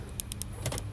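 Door locks of a 2004 BMW M3 actuating from the key remote, heard as a quick series of several short sharp clicks and clunks over a steady low hum, close by with no talking.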